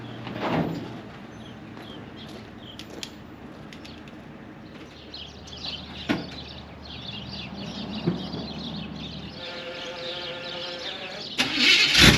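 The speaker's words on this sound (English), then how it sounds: "Got the tank working. It's running off the gas tank now." A vehicle engine running on a newly installed gas tank, a car with a K20 engine, idling at a steady low hum with clunks and a door-like knock, other mechanical noise rising toward the end.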